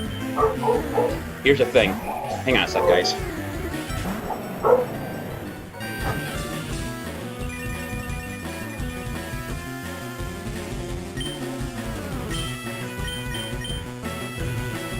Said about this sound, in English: that's my dog freaking. I'm not sure why he's freaking out.